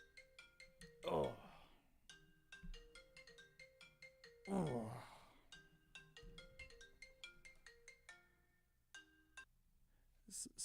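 A phone ringtone plays as a repeating electronic melody of short bright tones, fairly quiet, interrupted by a couple of louder bursts of voice.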